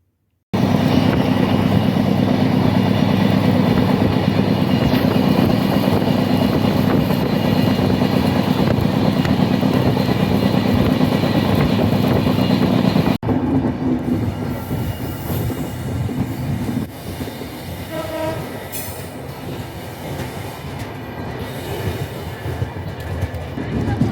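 The Ruposhi Bangla Express rumbles loudly along the rails into Narail railway station, a continuous heavy roll of wheels and carriages that eases slightly toward the end, with faint squeals.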